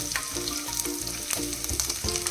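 Curry leaves, ginger and garlic sizzle and crackle in hot oil for a Kerala papaya pickle, a steady close frying hiss broken by quick pops and stirring.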